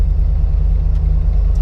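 A Jeep Wrangler with a GM LT L87 V8 engine, 10-speed transmission and aggressive exhaust idles with a deep, steady rumble, close and loud, no voices.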